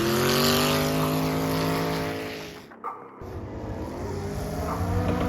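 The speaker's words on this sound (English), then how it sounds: "I like this angle to catch the cars drifting a lot better." Cars drifting at a Fuel Fest drift event in Arizona, loud sustained engine howl with tire roar, a brief dip near the middle before the screaming engines resume at full volume.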